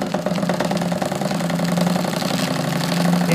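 A small Wilesco D16 toy steam engine starts up again and keeps running, a rapid, even chuffing and mechanical clatter, steady and close with no voices.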